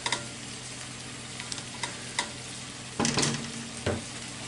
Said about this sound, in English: This one here, I'll stir it around again.